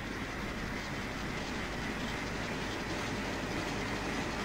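A freight train rolls past in a steady, continuous broadband rumble with faint rail clatter, close and loud, holding evenly throughout with no talk.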